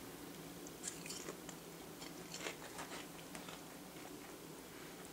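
Popcorn made in a Nordic Ware popper being chewed close up: quiet, irregular crunching and biting crackles over a soft hiss, with no talk.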